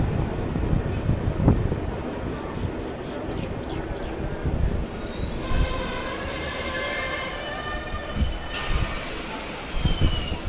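A MEMU passenger train runs steadily on rails at slow speed, with a continuous rumble, rhythmic wheel clanks, and high metallic wheel squeals. Faint birds can be heard now and then.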